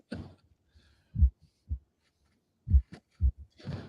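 Heartbeat sound effect played during a cigar talk show, a few deep low thumps in pairs with gaps between, fairly loud and alone.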